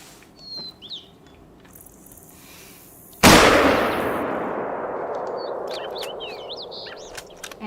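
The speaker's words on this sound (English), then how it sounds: "I think I'm gonna shoot that one." A single loud rifle shot fired while hunting in The Hunter: Call of the Wild on Silver Ridge Peak, a sharp crack followed by a long rolling echo that fades over several seconds, with faint birdsong before and after.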